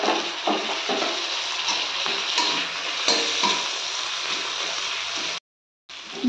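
Spices, chopped tomato and green chili fry in oil over a medium-high flame for prawn curry, with a loud, continuous sizzle and stirring scrapes that break off into brief silence near the end.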